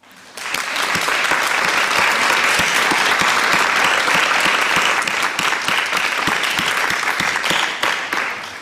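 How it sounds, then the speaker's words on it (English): An audience at a conference on migrant reception and local integration gives a full round of applause, with many hands clapping steadily and close until it tapers off at the end. "Let's make her applause big."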